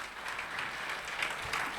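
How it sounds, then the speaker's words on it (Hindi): An audience at a spiritual drama gathering claps together, a brief, even patter of many hands at moderate volume with no voices over it. "ताली बजाए इसके लिए"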